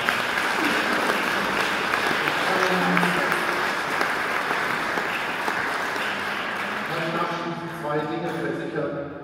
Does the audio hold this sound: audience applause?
yes